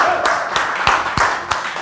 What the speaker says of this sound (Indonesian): Boleh tepuk tangan dulu dong buat Bapak Gembala.